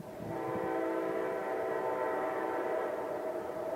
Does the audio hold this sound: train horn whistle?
yes